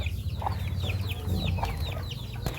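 Native hens cluck and chirp in quick, repeated, fairly close calls over a low rumbling background, with no talk.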